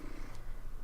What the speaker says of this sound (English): She's purring. She's super happy.